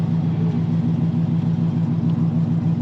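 A Corvette Z06 coupe with loud straight-pipe exhaust idles and revs in a steady, throbbing low rumble. The engine pulses evenly throughout and sounds close and fairly loud.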